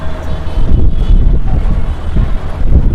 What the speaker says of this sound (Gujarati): પવન તો જબ્બર ચડ્યો છે, જોઈએ હવે વરસાદ આવે કે નહીં